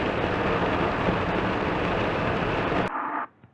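Steady, loud broadband hiss like heavy rainfall, made from filtered white noise, continuous for nearly three seconds before cutting to a softer, muffled hiss and fading out.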